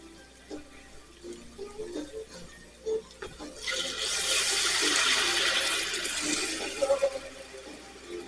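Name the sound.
water being poured into cooking pot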